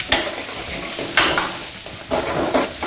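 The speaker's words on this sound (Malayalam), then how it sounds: "അപ്പൊ ഇപ്പൊ നമ്മൾ ആദ്യം വെളിച്ചെണ്ണ ഒഴിച്ചു, അതിലേക്ക് സവാള ഇട്ടു" Onion frying in coconut oil with ginger, curry leaves and green chili, a loud, close sizzle broken by a few sharp scraping stirs against the pan; no voices.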